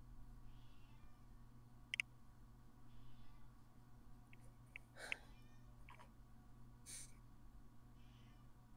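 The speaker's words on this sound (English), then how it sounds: "I just heard my cat, my god." A pet cat meows faintly in the distance a few times amid a low steady indoor hum, with scattered soft clicks.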